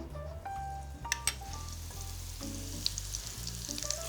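Acorn squash fries in clarified butter in a skillet, giving a steady close sizzle with soft crackles and a few sharper pops and clinks of utensils, over a low continuous hum.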